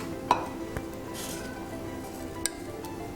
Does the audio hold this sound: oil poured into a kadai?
yes